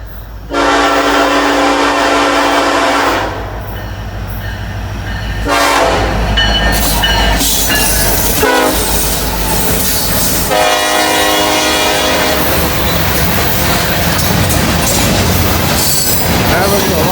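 Norfolk Southern freight train with a freshly painted heritage lead locomotive passing close, its horn blaring in long blasts over rumbling engines, followed by steady clatter and squeal of wheels on rails as the cars roll by; a voice speaks briefly.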